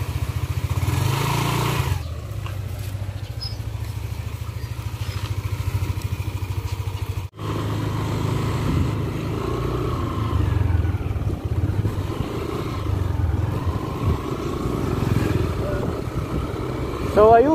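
A Yamaha Aerox 155 scooter engine runs steadily throughout, a close, rattly idle with slight revving and a brief cut near the middle.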